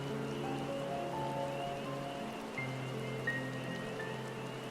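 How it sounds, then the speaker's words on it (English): Steady video game rain in Final Fantasy XIV hisses softly in the background, a gentle continuous patter beneath faint sustained musical tones. "It's nice that it's raining."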